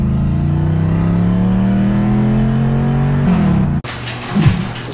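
A Volkswagen car accelerates hard in first gear, its engine note climbing steadily in a loud continuous drone, then cutting off abruptly near the end as a gear change or lift-off leaves rougher, quieter engine noise.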